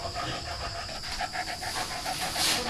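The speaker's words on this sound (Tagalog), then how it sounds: "Hingal na. Hingal na hingal na." A sow close to giving birth pants rapidly and rhythmically, quick steady breaths repeating several times per second, close and fairly loud against a hissy background.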